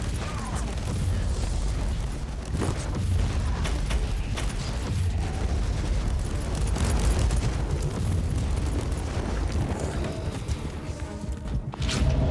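Fire attack in the video game Inquisitor Martyr, a sustained roaring blast with rumbling bursts and crackling pops, loud and dense throughout.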